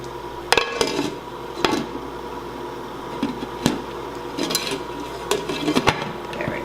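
Clanks and taps of metal ring out as the lid goes back onto a large canning pot near a rolling boil, with a low steady bubbling hum beneath several sharp separate knocks.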